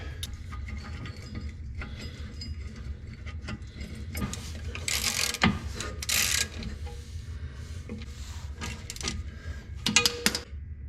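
Bolts are tightened while rear air bags are mounted on a 1964 Buick Riviera, with steady ratcheting clicks and mechanical rattling under a continuous low rumble and a few louder metallic bursts.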